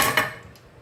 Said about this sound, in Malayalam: ഒന്ന് ഇളക്കുക. ഒന്ന് ഇളക്കിയിട്ട് ഒന്ന് മൂടി വയ്ക്കുക.